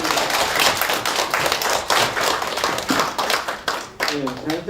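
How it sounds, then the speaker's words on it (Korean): A lecture audience at a winter workshop gives a round of applause, with individual claps heard clearly. The clapping is moderately loud and uneven, and a voice comes in near the end. "박수 부탁드립니다."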